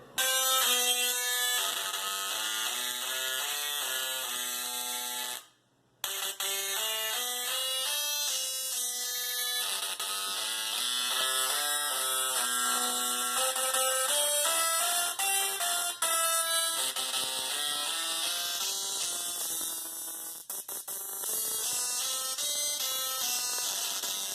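Buzzy electric tones from a solid-state Tesla coil play a quick plucked banjo melody with the harsh, crackling timbre of a singing spark coil, steady and continuous apart from one short gap.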